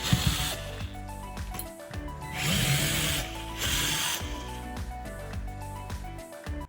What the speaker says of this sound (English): we're going to remove the ceiling mount by unscrewing the two screws that are connected